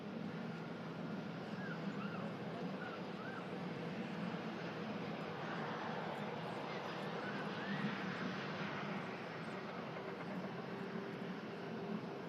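A Jet2 Boeing 757, a 19-year-old airframe, making a hydraulic emergency landing on runway 23L at Manchester Airport after a flight from Amsterdam; a steady, broad engine roar holds at an even level throughout, distant and unbroken.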